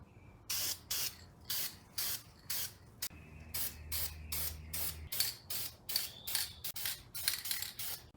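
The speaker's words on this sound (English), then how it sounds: "go ahead and clean these things up with some brake cleaner and then spray primer" A spray can of primer hisses in a steady series of short, evenly spaced bursts while painting brake calipers, close by, with a brief low hum in the middle.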